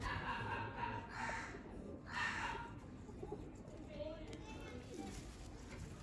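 A female pigeon gives low, throaty coos in short bursts, close and fairly soft, while a person talks nearby.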